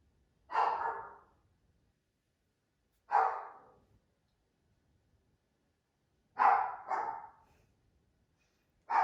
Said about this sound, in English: And there's my puppy.